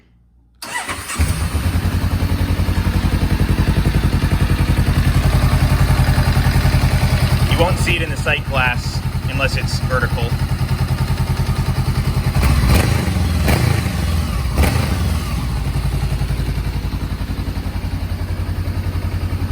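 A Honda CB500 motorcycle engine cranks and fires up after an oil change, then settles into a steady, close, rumbling idle while someone talks over it.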